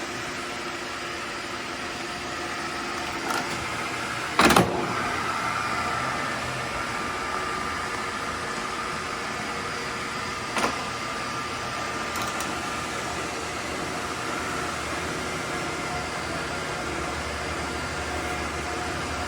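A 24-inch Giddings & Lewis Bickford single spindle drill runs with a steady, even mechanical hum at moderate level, broken by a couple of sharp clicks or knocks and no voices.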